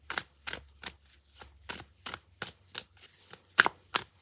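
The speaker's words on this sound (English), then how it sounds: "the cards are doing some really funny things today. I can't quite hang on to them." Tarot cards handled by cold hands, a series of about eleven short, crisp riffling bursts at a steady pace, close and fairly quiet, with no talking.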